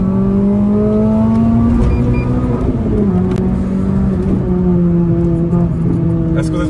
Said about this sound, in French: On va se faire la première accélération, j'ouvre un tout petit peu les vitres. On est en deuxième à 4000.